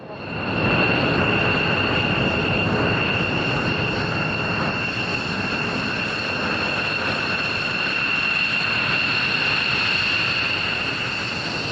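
A fast, sleek jet aircraft passes at an air show, a loud, steady engine roar with a high whine that holds for about twelve seconds, with no talking.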